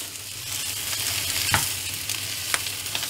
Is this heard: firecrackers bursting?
no